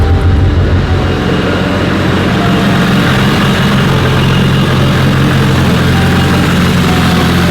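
A Mitsubishi Lancer Evo engine idles steadily after a repair that fixed flipped coil pack wiring, a loud, continuous low rumble that holds even for the whole stretch with no talking.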